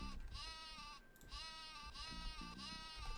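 Sheep bleating in the Worms video game, three wavering, nasal bleats in a row, loud and close, each broken by a short gap.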